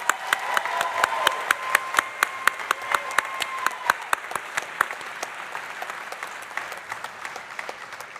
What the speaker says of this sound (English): Please join me in one final round of applause for these great business students.